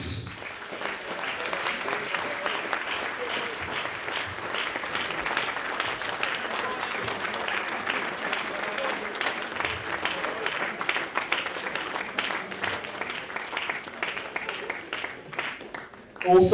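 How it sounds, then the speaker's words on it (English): Sustained audience applause at an end-of-season awards dinner, dense steady clapping from a room of guests that holds for over fifteen seconds, with a louder thump right at the end. "could we please give a round of applause for Andrew Thomas"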